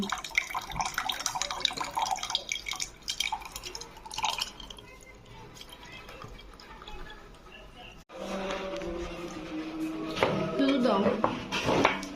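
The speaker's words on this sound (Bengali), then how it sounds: "মহাব্বতী শরবত ঢালছি।" Sharbat drink being poured during iftar preparation, a steady liquid splash and trickle with clinking of glassware, with talk over parts of it.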